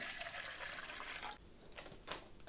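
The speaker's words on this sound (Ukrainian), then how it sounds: "Беру прозорий горщик, наливаю води" Water pours into a clear plastic pot for soaking an orchid, a steady hiss of filling liquid that breaks off abruptly, followed by quieter splashes and drips.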